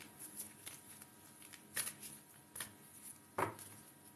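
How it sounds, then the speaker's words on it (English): Quiet, close tarot card shuffling: soft riffling and flicks with a few sharper slaps, irregular and faint, no talking. "Let's shuffle the moon cards for our Ellie."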